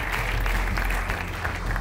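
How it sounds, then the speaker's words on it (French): An audience at a housing awards ceremony applauds four innovative building programmes, a dense steady wash of clapping heard briefly. "on applaudit ces 4 programmes innovants, bien sûr"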